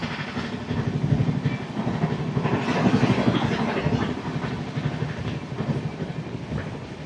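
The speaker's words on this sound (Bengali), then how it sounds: "আর ট্রেনের স্পিডটা দেখো 125, 124 কিন্তু কনস্ট্যান্ট চলছে এই রুটে।" Express train from Howrah to Digha running at around 125 km/h, a loud continuous rumble with rhythmic wheel clatter heard from inside the carriage, swelling slightly in the middle.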